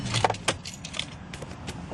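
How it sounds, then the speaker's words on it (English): A key turns in the ignition of a 2011 Volkswagen Passat, with a clink of dangling keys and sharp jangles amid quiet cabin noise as the car is switched off. "let me turn the car off"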